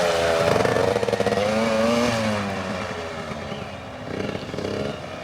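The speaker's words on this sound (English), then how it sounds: "So first real trials bike." A Beta EVO 80 Jr youth trials motorcycle revs and rides close by, its small engine whining in rising and falling pitch as the throttle opens and eases, loud and steady throughout.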